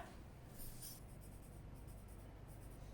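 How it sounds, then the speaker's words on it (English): A pencil or pen writes a name on a sheet of paper, giving faint, soft scratching strokes in a few short bursts over a quiet background. "We're going to write our name on the paper"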